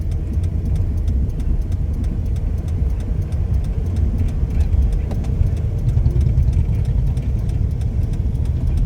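A car engine revs lightly during a driving lesson in traffic, a steady low mid-range hum that holds for the whole stretch with slight swells, close and continuous.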